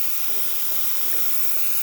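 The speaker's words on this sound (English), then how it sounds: "Nice pressure coming out of the steamer one, excellent temperature, working great." Steam jets steadily from the steam wand of a Jura Impresa F7 coffee machine, a continuous loud, even hiss that holds at full strength throughout with no voices.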